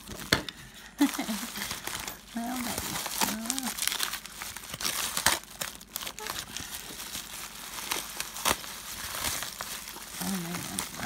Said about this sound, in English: just trying to cut along this little edge here